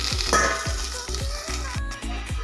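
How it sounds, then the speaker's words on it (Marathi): Rolled colocasia (taro) leaves fry in a little oil on a flat griddle, giving a steady close sizzle with soft recurring low thumps underneath. "थोडंसं तव्यावरती तेल टाकून भाजून घ्यायचे"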